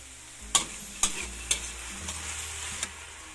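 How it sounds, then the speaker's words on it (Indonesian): Mushrooms with salt, seasoning and oyster sauce stir-fried in a pan, with a faint steady sizzle and several sharp scraping clicks of the spatula at a slow, uneven rhythm. "ini jamurnya kita masak sampai matang, karena jamurnya nanti mengeluarkan air"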